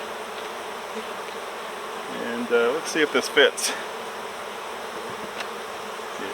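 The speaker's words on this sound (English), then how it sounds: "I'll shake the bees out first thing" Honeybees from a queenless cutout colony buzz in a steady, close drone as they are shaken out, with a brief burst of louder handling noise and a short spoken remark partway through.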